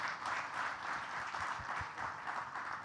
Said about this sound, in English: Can we have a big round of applause for our panelists